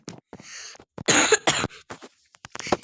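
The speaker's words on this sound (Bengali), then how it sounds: "তো কাশি হয়ে গেল তো সমস্যা নেই" A person coughs in several short, sharp bursts close to the microphone, with a louder cluster of coughs in the middle, during a Minecraft gaming session.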